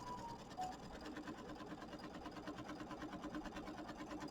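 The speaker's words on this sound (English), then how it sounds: "So we're going to stitch that down for the placement of the fabric for the background." A sewing machine hums steadily throughout, stitching a placement line on fabric for a mini quilt, a continuous fast mechanical whir heard close but quiet, with no talking.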